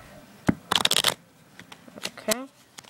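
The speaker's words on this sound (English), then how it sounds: "So we're just going to shuffle it." A deck of playing cards is shuffled up close in a quick riffle burst, followed by softer card handling and a brief voice.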